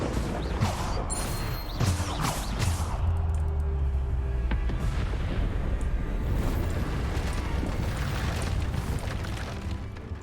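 Spell blasts from the Bombarda explosion charm in Hogwarts Legacy, a dense, continuous roar of booming impacts and rumbling debris with mechanical clatter, loud and close throughout with no pauses.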